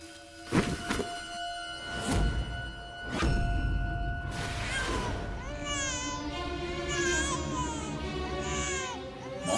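An infant cries from inside a stepwell in rising, wavering wails after several heavy thuds, the crying continuing steadily and fairly close.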